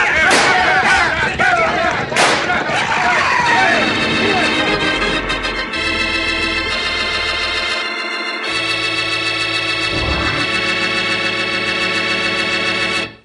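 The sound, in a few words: gunshots in a radio drama chase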